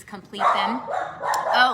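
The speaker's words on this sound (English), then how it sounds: "you can hear her barking in the background" A pet dog barks in a home behind someone speaking, with a few short yips and barks blending under the close, steady talk.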